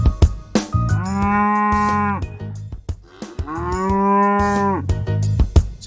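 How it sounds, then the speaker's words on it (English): Two long, loud cow moos rise and hold in turn, close and clear, set in a medieval village ambience with brief thumps and background sounds between the calls. "I've also added the cow."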